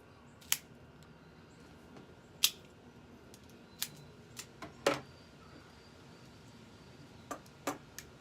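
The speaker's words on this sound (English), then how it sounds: "I'm going to use my Gar Stars Calibri V cut to cut my cigar" A Gar Stars Calibri V cutter snips a Rolling Thunder 50 cal maduro cigar, giving several sharp, separate clicks and snaps spread out against a quiet background, with no talking.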